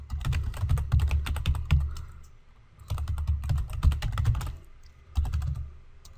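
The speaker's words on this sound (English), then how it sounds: "I'm going to type it in the chat box right now." Fingers tap out a web link on a computer keyboard during a live options-trading webinar, in three quick bursts of close, crisp clicks separated by short pauses.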